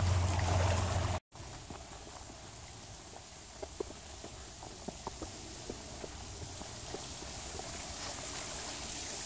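Steady broadband wash of river water along the bank of the Hudson River, with faint scattered ticks and knocks over it after a brief dropout near the start.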